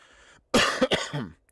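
A couple of short, dry coughs close to the mic, followed by a rougher throat-clearing sound, after a moment of quiet.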